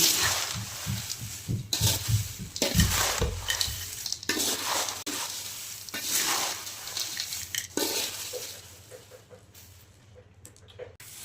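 Corn chivda being stirred in a pan after salt is added: irregular scraping and rustling strokes with faint sizzle, busier at first and easing off toward the end, near and without talk.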